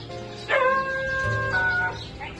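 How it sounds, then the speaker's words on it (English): A couple of dogs nearby give short, strained whining barks and yips that slide into a brief howl-like tone, sounding twice in quick succession with quiet background between. "Everybody's got dogs."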